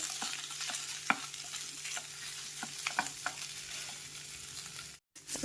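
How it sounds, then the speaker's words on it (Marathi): Small mashed potatoes being mixed by hand with spices for a sandwich filling, faint soft squelches and light taps over a low steady background hum. "व्यवस्थित छान मिक्स करून घ्यायचे मसाले आणि बटाटे।"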